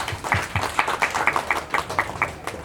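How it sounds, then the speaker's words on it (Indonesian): Audience clapping at an Islamic talk on youth business, a modest group applauding in a fairly regular rhythm that fades a little toward the end. "Ya, tepuk tangan semuanya."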